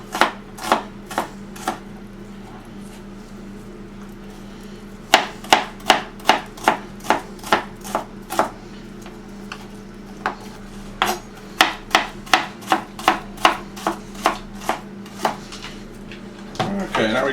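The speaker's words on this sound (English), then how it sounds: "now we got all of our onions chopped up" Onions being diced with a knife on a cutting board for buffalo chicken soup, a brisk series of sharp, close chopping taps in bursts with short pauses between.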